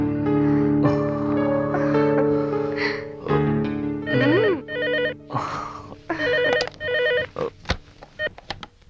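A telephone rings in steady electronic bursts of tones, loud and close, across several seconds with short gaps between rings and no voices, until it cuts off.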